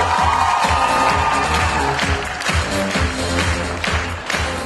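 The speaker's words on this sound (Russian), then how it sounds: "Ваши аплодисменты" An audience at a KVN comedy contest held for the Day of Knowledge claps loudly for the Domodedovo airport team, a rhythmic wash of applause with light cheering that thins slightly toward the end.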